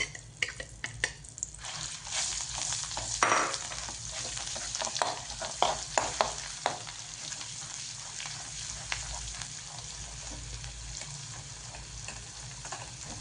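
Cumin, mustard seeds and ground masala paste frying in hot oil sputter and crackle up close, with bursts of popping and stirring scrapes over a steady sizzle, no one speaking.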